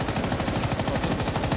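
Rapid automatic gunfire from the operator Nomad's weapon in Rainbow Six Siege, a dense, steady burst of shots running the whole time, loud and close with no talk over it.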